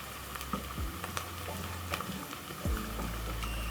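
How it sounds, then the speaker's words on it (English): Onions browning in a pan for chicken pilau give a soft, steady sizzle with light crackles and occasional stirring scrapes, fairly quiet and close with no talking. "Stir around until my onions are browning"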